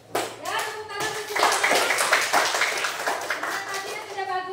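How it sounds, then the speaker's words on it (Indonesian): Students clapping together in a classroom at an Indonesian junior high school, a dense burst of applause that swells and holds steady, with a teacher's voice and children's chatter mixed in. "tepuk tangan untuk"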